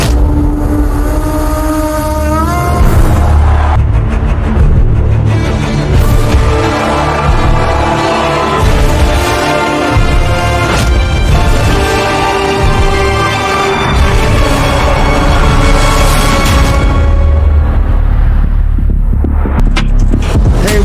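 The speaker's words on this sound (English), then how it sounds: "It is lights out. We're racing in MotoGP here in Indonesia" MotoGP motorcycles launch from the start at the Indonesian Mandalika circuit, a loud, sustained roar of many engines rising in pitch through upshifts and sweeping past.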